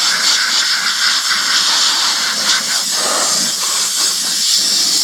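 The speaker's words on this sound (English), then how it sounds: "blow the debris from nooks and crannies, like near the belts and the wheels" Strong steady hiss of blown air clearing debris from around the belts and wheels of a Honda HRR216VKA 21-inch self-propelled lawn mower, loud and continuous throughout with no pauses.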